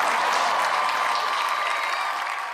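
Steady audience applause at a New Year special Tamil debate (pattimandram) event, a dense wash of many hands clapping that holds at an even level and eases off slightly toward the end.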